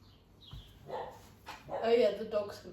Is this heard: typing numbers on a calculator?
no